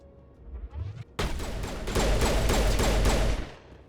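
Pistol shots in the Mass Effect video game form a dense, loud volley of rapid repeated bangs that starts abruptly and runs for a couple of seconds.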